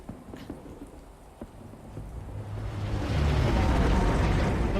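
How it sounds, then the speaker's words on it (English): Rain falls in the video game Remember Me, starting as scattered drips and taps with a low rumble, then swelling into a loud, steady downpour that fills the scene. "Oh cool, it's raining."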